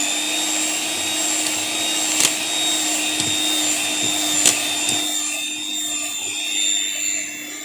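Electric mixer whipping meringue with sugar, lemon zest and lemon juice, a steady close whirring drone with a few brief clicks, easing slightly near the end.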